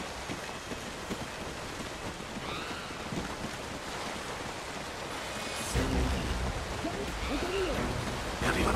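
A steady, loud rush of cascading water fills the scene in the Call of Duty Ghosts game, a continuous broadband roar that swells slightly louder partway through.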